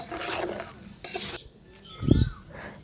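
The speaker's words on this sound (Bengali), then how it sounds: "তারপর আমি এখানে লবণ দিয়ে ভালো করে আবারও নাড়াচাড়া করে নেব।" Mango pickle is stirred with salt in a pot, giving soft scraping and rubbing strokes with a spoon and a brief louder clunk near the end, close and fairly quiet with no talking.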